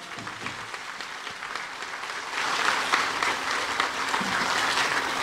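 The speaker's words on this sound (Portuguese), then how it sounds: "Mais uma vez, para o padrinho, uma calorosa salva de palmas." A congregation at a Padre Cícero mass in August 2019 gives the godfather a warm round of applause, a dense, steady wash of clapping that swells louder halfway through and carries on to the end.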